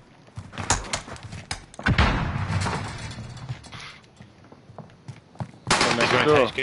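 Gunfire in Call of Duty: Warzone on Rebirth Island, with sharp shots and rapid bursts cracking out in clusters, loudest in a dense volley near the end, while players talk over the fight.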